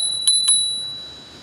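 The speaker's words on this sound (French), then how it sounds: "La petite sonnette qui va bien" A bicycle bell on a folding electric bike, a HITWAY BK11M, dings twice in quick succession, then its bright metallic tone rings on and slowly fades.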